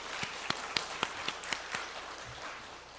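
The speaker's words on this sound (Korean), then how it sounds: "설교 시간 박수 한 번 안 치겠습니까?" A church congregation claps during a sermon: about seven sharp, evenly spaced claps ring out, then the sound thins into faint, scattered applause in a quiet hall.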